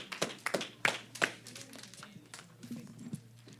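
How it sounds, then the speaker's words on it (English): Audience applause for conference panelists: a short, sparse burst of hand claps, moderately close, tapering off into scattered claps and faint murmur. "Let's give another round of applause to all the panelists."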